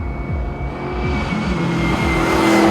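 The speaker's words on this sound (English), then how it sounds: "people hear that V8 roaring past" A loud V8 muscle car engine roars and revs, pitch climbing through gear changes as it accelerates past, growing louder toward the end.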